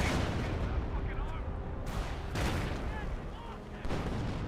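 Battle noise from Company of Heroes as mortar rounds hit riflemen among advancing Tiger and Firefly tanks. Heavy blasts and rolling gunfire fill the whole stretch, with sharper booms near the middle and the end.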